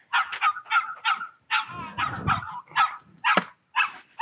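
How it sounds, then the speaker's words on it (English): Several dogs bark back and forth through a backyard fence beside a cornhole game, a run of sharp, close barks in quick bursts with brief yips and a low growl in between, no talking. "We got some dogs walking by."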